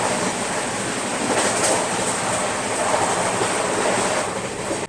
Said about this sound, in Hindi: निजामुद्दीन रेलवे स्टेशन से निकलने के बाद अपनी दुरंतो एक्सप्रेस का 305 किलोमीटर का नॉन स्टॉप रन है ग्वालियर जंक्शन तक।